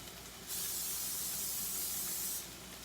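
Cooking spray hisses steadily onto a casserole dish for nearly two seconds, a close, continuous aerosol spray starting and stopping cleanly against a quiet kitchen background.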